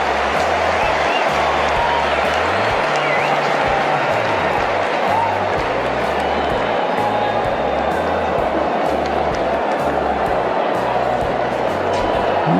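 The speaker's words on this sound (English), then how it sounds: "They're wondering what all the yelling's about." A cricket stadium crowd during a super over, a steady roar of yelling and cheering that fills the air without pause, with a commentator's voice audible over the din.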